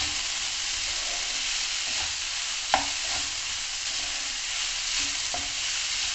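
Spices such as black pepper, chili flakes and mixed herbs stirred into a capsicum stuffing frying in a pan, a soft continuous sizzle with occasional scraping clacks of a spoon against the pan.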